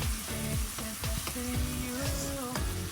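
Finely chopped potato, onion, green onion and cabbage stir-fried in a pan for homemade omurice, sizzling steadily with repeated scraping taps of a utensil under a tonal musical backing, no talk.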